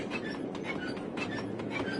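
A train rolls steadily through a level of the Sly 2: Band of Thieves video game, a continuous rumbling clatter held at an even, moderate loudness with no voices over it.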